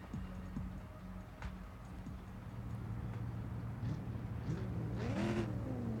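The Lamborghini Aventador SVJ 63 in the CSR 2 racing game revs and accelerates with rising engine whine through gear changes, layered over steady game background noise and fairly quiet overall.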